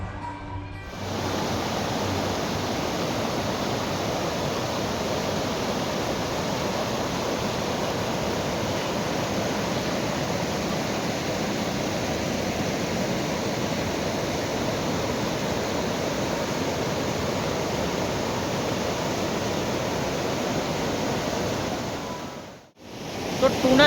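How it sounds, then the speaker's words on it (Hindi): A mountain river in Uttarakhand near Gangotri rushes steadily down from the peaks, a loud, constant roar of churning water filling the whole stretch without pause. "प्राकृतिक रूप से आती हुई नदी आपको मिलेगी"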